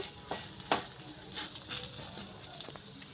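A vegetarian egg-style batter fries in a pan with a paratha pressed on top for a vegetarian roll, giving a steady close sizzle broken by a few soft scraping and pressing sounds.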